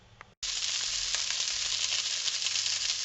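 Lardons hit a hot pan and sizzle loudly, starting abruptly after a short quiet moment and holding as a dense, steady crackle near the listener.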